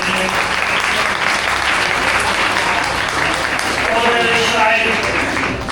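An audience applauds at a teachers' prize distribution and faculty achievers meetup. Thick, continuous clapping carries throughout, while someone speaks faintly beneath it.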